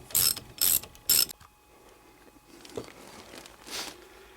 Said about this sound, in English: take the black cap off the one in the bottom and loosen it too, and take these bolts right out